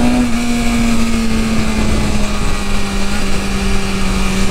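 A new BMW motorcycle engine holds a loud, steady high-rpm drone with a strong sustained tone, sitting against its rev limiter set around 8,000 rpm, close and continuous with no talk.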